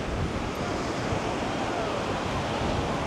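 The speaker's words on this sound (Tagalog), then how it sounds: "malakas talaga yung hangin" Steady, roaring wind buffets the microphone at a windy beach on Boracay, Philippines, with surf washing underneath in a constant, dense rush.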